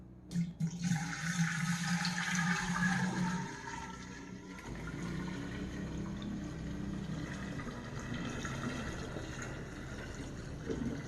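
Tea pours steadily into a kombucha jar, a continuous liquid splashing and trickling that runs unbroken for about eleven seconds, close and moderately loud with no talking.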